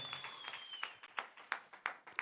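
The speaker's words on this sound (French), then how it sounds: "Vous pouvez les applaudir bien fort" A handful of people clap sparsely and faintly in the Théâtre Comédie Odéon during a live comic-drawing battle, with a few distinct claps standing out over a thin patter and a faint steady whistle-like tone.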